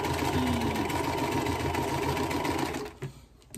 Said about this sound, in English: I start sewing really fast